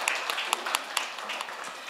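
A seated audience applauds at a town hall meeting of a provincial education office, a short burst of scattered claps under room noise that fades quickly as the room settles.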